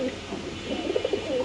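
Pigeon cooing at a large pigeon farm in Mirpur, Dhaka, with a few soft, close rolling coos in quick succession over faint background murmur.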